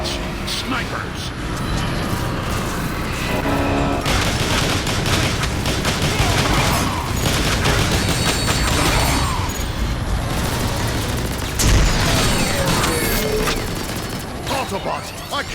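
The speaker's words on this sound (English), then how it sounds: "I can't work when I'm getting shot at." Sniper and heavy gunfire rattle continuously in Transformers War for Cybertron, dense loud shots and mechanical clatter layered with battle noise, while voices talk over the fight.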